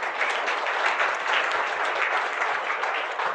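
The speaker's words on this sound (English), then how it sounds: "let's give Helen a clap for a start" A parent forum audience applauds a speaker with dense, steady clapping that fills the room evenly from start to finish.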